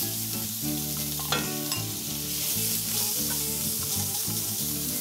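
Steak searing in a hot pan with grapeseed oil, a strong steady sizzle with a sharp crackle near the start, close up over faint background music and no voices.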